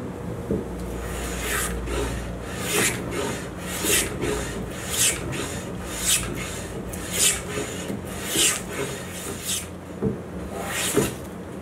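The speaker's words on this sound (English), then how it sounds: "if you've never hand planed wood like this, I really suggest you try it" Repeated rasping strokes of a hand plane shaving wood, close and rhythmic, each pass a bright, breathy scrape at a steady pace.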